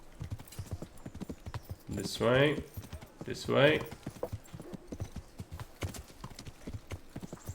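Steady clip-clopping horse hooves trot throughout in the video game Kingdom Come: Deliverance, a busy rhythmic patter, while a person talks briefly over it.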